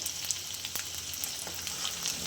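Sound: garlic frying in oil

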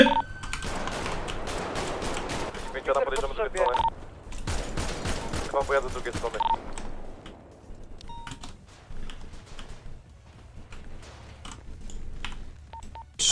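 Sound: gunfire at Paleto Bay in GTA RP video game

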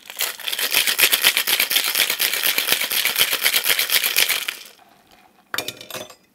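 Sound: cocktail shaker shaken with ice and rum

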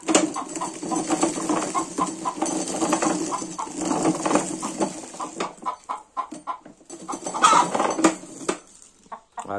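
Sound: hen clucking

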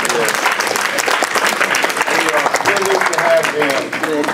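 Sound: applause for the teachers

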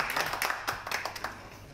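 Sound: film crew clapping at end of shooting day

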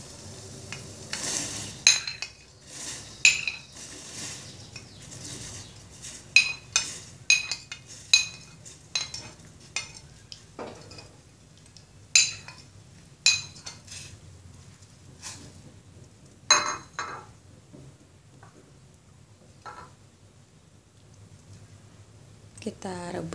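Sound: corn and onion added to boiling water, stirred in pot

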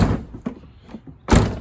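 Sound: Toyota Land Cruiser Prado rear door being shut

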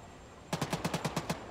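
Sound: gunfire in video game Arma 3

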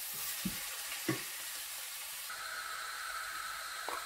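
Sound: frying grated carrots and rice in a pot

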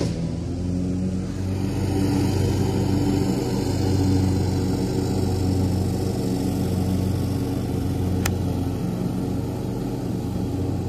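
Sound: lawn mower running on golf course

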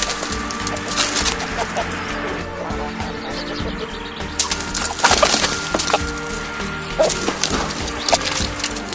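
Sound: Rhode Island Red cockerel among Light Sussex hens

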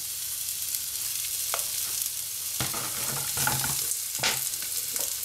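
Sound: artichokes frying in oil

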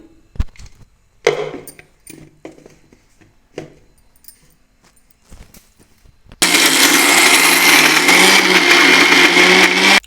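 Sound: mixer grinder grinding curry leaf chutney

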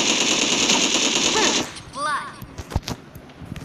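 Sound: gunfire in the video game Sausage Man

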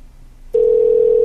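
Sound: telephone ringing during a call

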